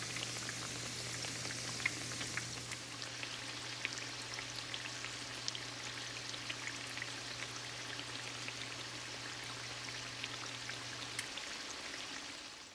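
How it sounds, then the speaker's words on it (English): Continuous crackling and bubbling of sweet ricotta ravioli frying in hot oil, steady and close, with a low hum underneath for most of it. "I'm gonna start frying them off."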